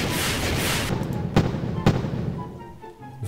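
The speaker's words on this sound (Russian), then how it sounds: "Такая яркая вспышка, да? Потом идет сам салют." Fireworks burst loudly in Garry's Mod, a dense crackling fizzle followed by two sharp booms, then a quieter crackle fading out.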